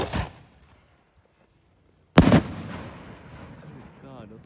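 A 3-inch display firework shell fires from its tube with a sharp launch thump, then after a pause a loud, close burst booms out and trails off into a long crackling, rumbling decay.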